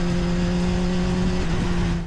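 A motorcycle engine drones steadily on a moto ride, a loud constant hum with strong low tones and wind noise, holding an even pitch and then easing off at the very end.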